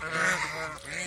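Farm geese give a brief, loud honking call close by, a single drawn-out burst with no speech.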